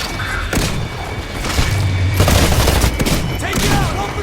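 Heavy gunfire in a Titanfall campaign cutscene: loud overlapping bursts of shots and thudding booms, with shouted voices and battle noise mixed through.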